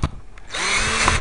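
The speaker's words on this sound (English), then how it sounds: "let me see my drill. All right, unscrew this." A cordless drill unscrewing a screw from a solar attic fan controller whirs up and keeps spinning steadily at high speed after a brief click and shuffle, close by.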